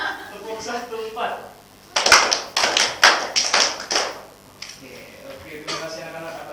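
A burst of sharp, rhythmic hand claps from students in a high school accounting classroom, following a counted clapping pattern. They arrive in quick groups over a couple of seconds, with a teacher's voice before and after.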